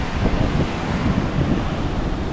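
Strong wind buffets the microphone at a seaside river mouth after rain, a steady loud rumbling roar with no voices.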